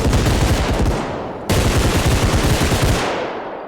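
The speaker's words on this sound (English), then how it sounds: "sounded like I was getting shot from over here" Rapid gunfire in the video game Skald, loud dense bursts of shots aimed at the player, with a brief break near the middle before the volley resumes and fades at the end.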